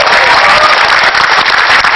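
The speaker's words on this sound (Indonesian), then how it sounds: "Tepuk tangan dulu dong." Studio audience applause at a stand-up comedy taping, a loud, dense, continuous wash of clapping filling the whole two seconds.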